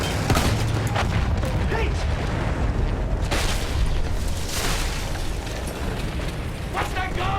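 Loud gunfire and booming blasts in a battle, with broadband bursts through dense noise and shouting voices over the top.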